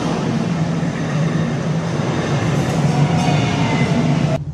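A train waits at a commuter rail station in Rowlett while it is being cleaned before departure, giving off a steady, loud rumbling hum throughout with faint mechanical noise and no voices.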